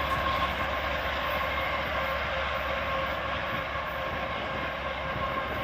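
CSX freight train pushed by an ES44AC locomotive, a steady broadband rumble and roar that holds at a constant level throughout, with no voices.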